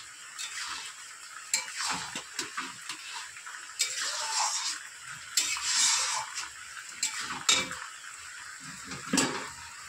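Semolina halwa with fried cashews, raisins and coconut being stirred in a pan, a spoon scraping and clinking against the metal in quick irregular strokes with a light sizzle underneath, close and fairly loud.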